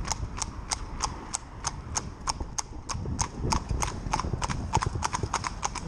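A horse trots alongside on a town street in Holland, its hooves clip-clopping in a steady, fairly close rhythm of sharp regular strikes over light background noise.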